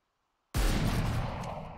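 Gunfire in the competitive shooter Valorant during a face-off on C-long, a single sharp burst cutting in suddenly after silence and ringing out with a loud, fading tail.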